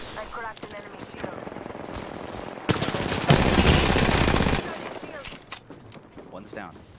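Loud bursts of automatic weapon fire rattle through an Apex Legends fight, peaking in a dense barrage mid-clip before tapering off, with a voice speaking throughout.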